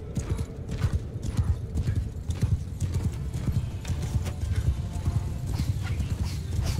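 Horses galloping and neighing during a cavalry fight in Mount & Blade 2, a dense, continuous drumming of many hooves with whinnies cutting through, loud and steady throughout.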